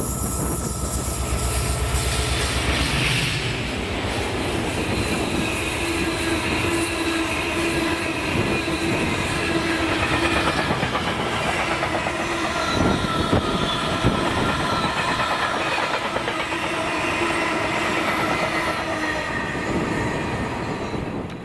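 Class 56 diesel locomotive 56078 hauling an engineers train past the lineside, a sustained rumble of engine and rolling wagons with wheel squeal and clattering rail joints throughout the pass.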